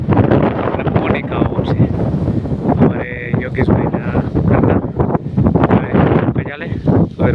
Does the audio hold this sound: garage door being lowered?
no